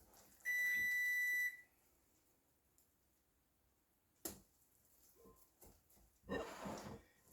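Kitchen alarm timer in a home kitchen during focaccia bread baking: one loud, steady electronic beep held for about a second, then quiet with scattered handling clicks and rustling.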